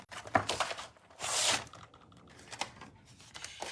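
A paper trimmer slicing through card stock during card making, a long scraping swish of the blade running across the sheet among smaller clicks and handling noises, close by with no talking.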